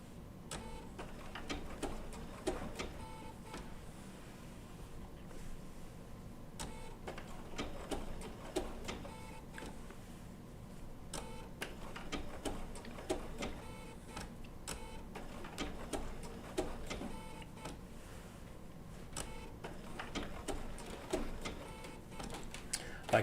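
A Bernina B790 PRO sewing machine with a 20C open toe foot stitches wool applique in short bursts, a close rapid mechanical ticking that stops and restarts as the fabric is repositioned, with occasional quiet talk.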